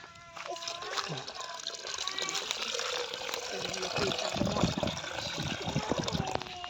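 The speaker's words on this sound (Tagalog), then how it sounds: "Tutok yung tubig." Water trickles and splashes steadily while a child and an adult talk over it close by.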